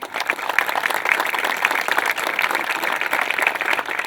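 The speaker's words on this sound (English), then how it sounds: "give all these folks a round of applause" An audience at the grand opening of a tennis complex gives steady, dense applause that stays even for several seconds, with no speech over it.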